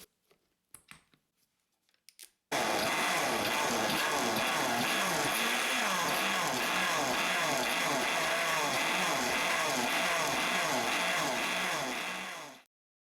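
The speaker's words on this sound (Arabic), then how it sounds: "هضربها دلوقتي في الخلاط لحد ما تنعم" After a few faint clicks, a blender purees broccoli soup, whirring loudly and continuously for about ten seconds, a dense churning roar that stops abruptly.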